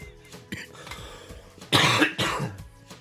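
A loud cough, a couple of sharp bursts around the middle followed by a quieter throat-clearing, heard close and alone without speech.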